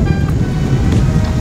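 Wind gusts buffet the microphone at night beside a car, a steady loud rumbling roar with no other clear sound.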